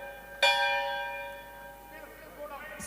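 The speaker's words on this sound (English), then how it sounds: "So the opening bell has been struck." A ceremonial opening bell rings out once at a Diwali Muhurat trading ceremony, a bright metallic strike with a long ringing decay, followed by faint background murmur.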